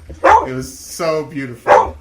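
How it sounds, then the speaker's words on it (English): A dog barks close by in sharp bursts at the start and end, with a person talking in between. "Sorry for the barking, folks."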